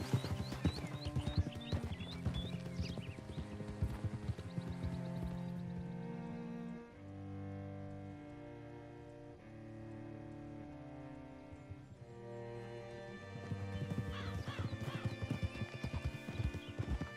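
Horse hooves clip-clop in Red Dead Redemption 2, a steady walking rhythm heard close under a dense layered music score, with a whinny near the start.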